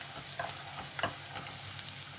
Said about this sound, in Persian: روغن که این از آب داغ شد، پیاز های ریز خرد شده رو داخلش میریزیم،